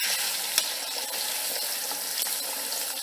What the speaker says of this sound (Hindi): कुकिंग ऑयल डाल दिए और इसमें हम प्याज शामिल करेंगे और थोड़ा सा हम इसे सौते कर लेंगे।